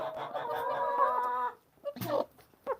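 Chickens cluck in a backyard coop, a dense overlapping chorus of hens for the first second and a half, then a few short scattered clucks and squawks close by.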